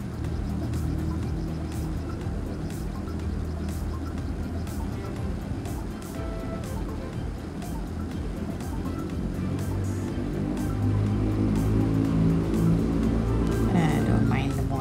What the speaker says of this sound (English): Don't mind the motorbike